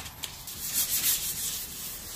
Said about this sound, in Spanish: Voy a usar lo que es una lija 600 y una lija 1200.